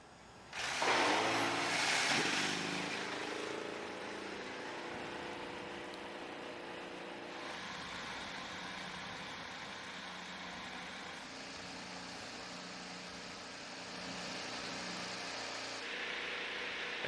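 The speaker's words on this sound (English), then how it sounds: "The engines are fired, ready to go." Several IndyCar race car engines fire up at once with a loud burst, then settle into a steady, droning idle that swells slightly near the end, heard from a distance at a race track.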